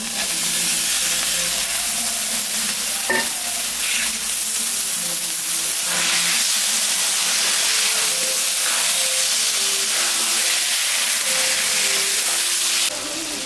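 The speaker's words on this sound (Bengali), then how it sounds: "লঙ্কার পেঁয়াজটা ভাজা হয়ে গেছে, এখন আমি তেলটা দিয়ে দিলাম" Hot oil sizzles and hisses steadily in a pan after chilies and onion have been fried in it, a constant close frying noise with no talking.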